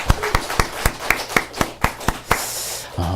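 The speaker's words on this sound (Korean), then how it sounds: "감사의 박수를 올려드립니다" Church congregation at a Sunday worship service clapping in a steady rhythmic beat, a dozen or so sharp evenly spaced claps, close and fairly loud, with no talk.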